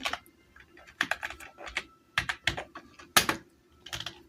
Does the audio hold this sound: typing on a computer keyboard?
yes